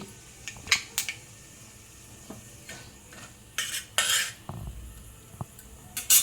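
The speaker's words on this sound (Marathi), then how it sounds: "राई पण चांगली तडतडून द्यायची" Mustard seeds splutter in hot oil, making irregular sharp pops and crackles, some loud and close, separated by short quieter gaps.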